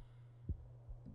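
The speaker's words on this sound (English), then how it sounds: "Stop making that heartbeat" A low heartbeat in Garry's Mod thumps twice over a steady hum, faint and close, with one soft beat and a second weaker thud.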